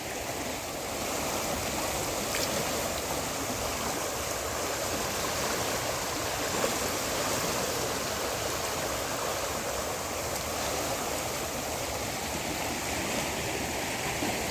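The flooded Ganges rushes past a ghat at Haridwar, a loud, unbroken roar of churning water that holds steady throughout with no voices.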